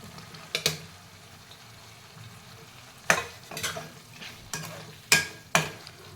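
Boiled, peeled potato pieces cut small are stirred and sautéed in a pan for a capsicum gravy, giving a low steady sizzle broken by several sharp spatula scrapes and clinks, close and fairly quiet, with no talking.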